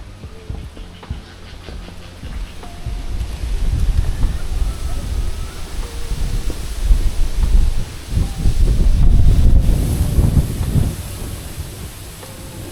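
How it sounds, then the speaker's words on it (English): Gusty wind at an outdoor zoo with trees overhead, rumbling and buffeting the microphone in low, swelling surges that build toward the end, with faint background sounds. "Wow, it's getting windy though."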